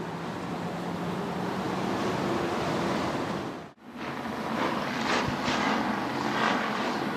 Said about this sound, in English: That's a whole lot of 602 crate engines trying to clear their throats right now, folks.